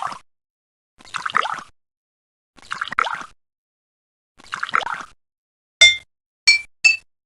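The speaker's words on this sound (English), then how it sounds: "Our monster wants to play a tune on the glasses of water, but all the glasses make the same sound." Water-filled glasses in a video game ring out in three bright, clear clinks near the end, each ringing the same pitch. Softer, duller sounds come before them in a slow, even rhythm, spaced about two seconds apart.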